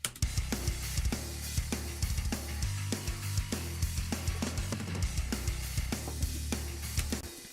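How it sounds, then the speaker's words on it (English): A programmed drum track in an electronic music production plays with a deep bass line added beneath, the booming low notes moving under steady kicks, snares and hi-hats in a dense, driving groove. "Then we add in the bass."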